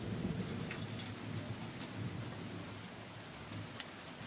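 Steady rain in the video game Silent Hill 2 Remake patters and hisses throughout, with soft low rumbles underneath; no voices, a constant wash of falling water.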